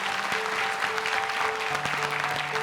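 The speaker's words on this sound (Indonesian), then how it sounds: "Ayo Aska, tepuk tangan dong untuk Aska." A studio audience claps steadily on an Indonesian TV talent show for young Quran memorizers, producing a dense, continuous wash of applause with tonal hums and music in the background.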